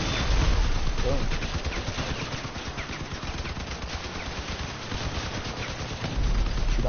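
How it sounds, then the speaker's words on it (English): Rapid machine gun fire from vehicles in the combat game Crossout, rattling in dense bursts throughout with explosion-like thumps at the start and end, under excited talk. "Shoot off the machine guns."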